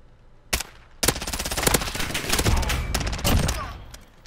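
Rapid automatic fire from an M4A1 rifle in the Modern Warfare video game, with loud bursts starting about half a second in and a longer sustained stream of shots continuing almost to the end, close and dominant.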